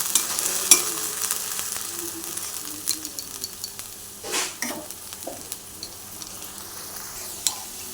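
Shrimp and taro stolons frying with salt, turmeric and Kashmiri chilli powder, a low steady sizzle under intermittent scrapes and knocks of a spatula stirring in the pan, close and moderately quiet.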